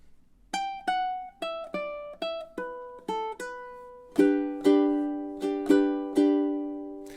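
A fingerpicked ukulele melody from a cheerful summer tune: a run of single plucked notes gives way to fuller ringing chords, steady and close, with no voices.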